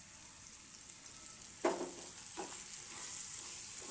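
Broad beans (chikkudukaya) with garlic fry in oil in a steady, close sizzle, with a few brief scraping stirs of the pan.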